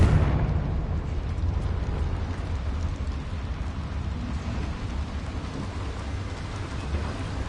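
A Confringo blast in Hogwarts Legacy sets off a loud, rumbling burst. It quickly turns into a long, steady roar like heavy rain and thunder that fills the whole stretch without easing.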